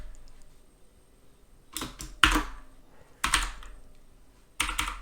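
Bursts of typing on a computer keyboard, entering a help command for a Discord bot built with the Hikari library in Python, arrive in three quick clusters of close, crisp key clicks with quiet pauses in between.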